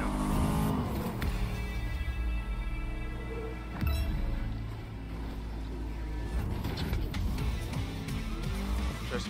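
Cars racing in a video game, engines revving and surging with tire squeal and skidding, a loud, shifting roar that dips briefly midway before swelling again.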